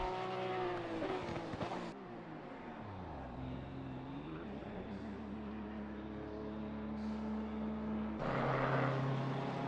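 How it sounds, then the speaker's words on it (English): A BMW race car in a multi-class racing video game at Watkins Glen roars past with a loud engine note that dips in pitch as it goes by, followed by a sustained steady drone and another car's engine swelling near the end. "Our leader goes through in the BMW."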